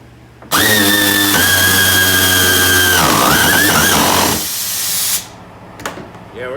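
An air ratchet whines loudly against rusty radiator bolts on a GMC/Chevy S10-family truck, a strong tonal hiss-whir lasting a few seconds that wavers and trails off, followed by a faint clink.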